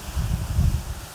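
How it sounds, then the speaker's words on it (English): Wind blowing outdoors straight into the microphone, a continuous low rumbling buffet with gusty swells over a faint hiss, no speech. "Sorry about the wind. It's windy."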